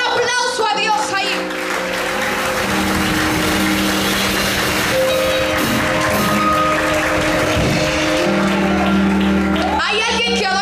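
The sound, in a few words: congregation applause in church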